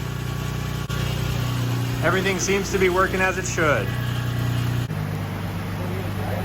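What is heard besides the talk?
VQ car engine running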